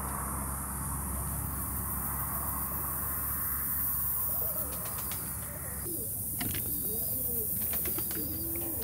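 Pigeons in Veria fly off and coo outdoors, soft cooing calls and light chirps over a steady background hiss, with faint wing flutters in the later seconds.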